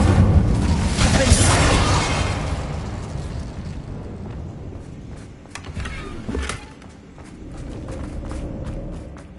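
An Incendio fire spell is cast in the video game Hogwarts Legacy. It lands as a loud, roaring fiery burst in the first seconds, then fades into a lower rumble scattered with sharp crackles and pops, with muffled voices faintly underneath.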